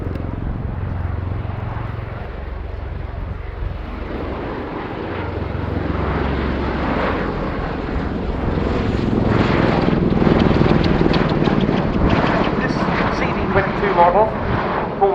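A USAF Boeing CV-22 Osprey tiltrotor flies at the RIAT 2019 air show, its heavy rotor and engine roar building louder and closer over the crowd, with a commentator talking throughout.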